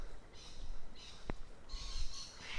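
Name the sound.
birds calling in forest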